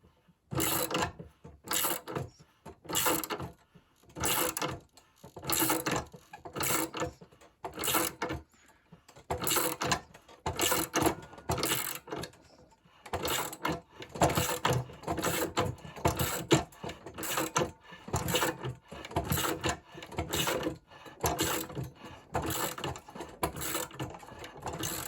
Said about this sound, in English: let's see what happens when we try tightening up our puller here and see if it pushes this bushing out for us